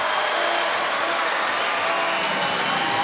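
A basketball arena crowd at a women's EuroBasket game roars and applauds in a dense, steady wash of cheering, with a commentator's voice under the noise.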